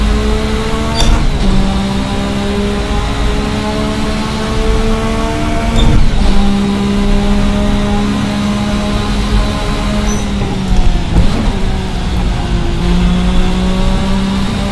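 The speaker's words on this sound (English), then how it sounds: "Pulling next to no revs, but already the engine sounds very nice." A 1986 Formula V6 turbo racing car engine in a video game revs steadily with rising and falling harmonic tones, a continuous mechanical drone with a few brief sharp clicks, no voices.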